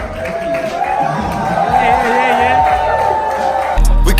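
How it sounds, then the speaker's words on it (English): Crowd cheering and whooping for a guest introduced at an event in Lagos, a noisy mix of shouts and scattered clapping under a tonal hum, with voices mixed in. "A round of applause"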